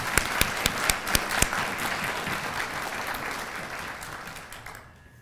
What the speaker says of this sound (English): Another round of applause for our new recruits.